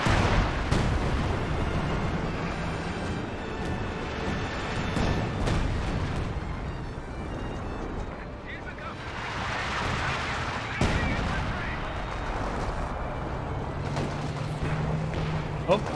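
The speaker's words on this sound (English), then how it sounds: "Nope, that's a heavy mortar barrage." Heavy mortar barrage in Company of Heroes 2, with dense booming impacts and rumbling blasts rolling on continuously through the battle and a voice talking over the top.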